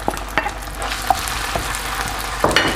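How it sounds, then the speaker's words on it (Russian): Honey mushrooms fry in oil in a pan while being stirred, a steady close sizzle broken by several scraping knocks of the utensil against the pan. "Засыпаем в одну сковородку наши грибки"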